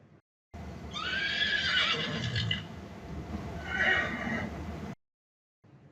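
A horse neighs loudly twice, the first whinny longer and rising, the second shorter a moment later, close and clear against quiet.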